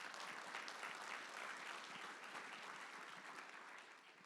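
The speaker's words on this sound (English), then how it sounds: "So let's give a big round of applause to our advisory forum sponsors." An audience at a business forum in Little Rock applauds its sponsors. The clapping is dense and steady but faint and distant, and it tapers off slightly toward the end.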